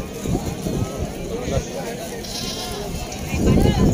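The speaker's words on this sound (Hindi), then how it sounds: "ये बकरा है, खस्सी बकरा है, और ये दूध वाली बकरी है" Goats bleat at a busy goat market, with several calls rising over crowd noise and a person talking nearby, one louder bleat toward the end.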